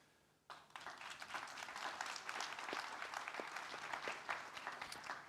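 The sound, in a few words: audience applause at a conference panel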